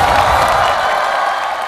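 Studio audience at a Chinese television singing competition breaks into loud, steady applause mixed with cheering, a dense continuous roar of clapping that fades slightly toward the end.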